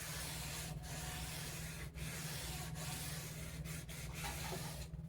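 A bass guitar body is sanded by hand with 400 grit sandpaper. The rubbing hiss is steady and close, with brief pauses between strokes, over a low hum.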